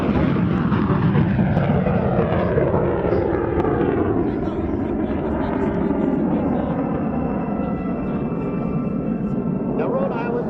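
A MiG-17 jet makes a slow speed pass at the 2017 Rhode Island Air Show, a loud continuous engine roar with a slowly falling pitch as it passes, with an announcer talking over it.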